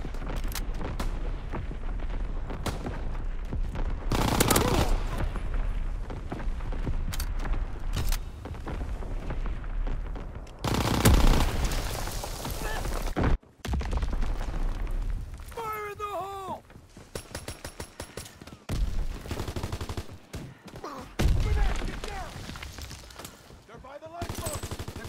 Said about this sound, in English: Enemy artillery! Get to cover!